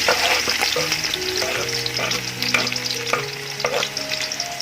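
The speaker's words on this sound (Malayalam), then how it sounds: "ആദ്യം നമുക്ക് കുറച്ച് സവാള ഒന്ന് ഫ്രൈ ചെയ്തെടുക്കാം." Onions frying in hot oil in a large pot for biryani topping, a steady loud sizzle with repeated scraping stir clicks and some tonal background hum, no talking.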